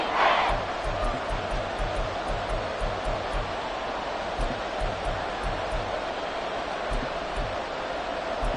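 A football stadium crowd cheers and roars as one steady wash of noise, loud and continuous, with a brief sharper burst at the start and no clear voice standing out.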